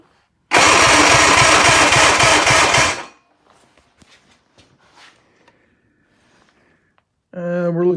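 A 1958 Johnson 50hp outboard motor cranks over loudly for about two and a half seconds during a compression check, a dense rhythmic churning that stops abruptly and is followed by faint clicks and handling noises, with a brief voice at the end.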